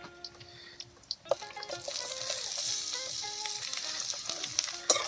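Meat fries in hot oil in an outdoor cooking setting, a loud, dense sizzle that swells after a brief quieter opening and keeps bubbling steadily, with faint scattered background sounds.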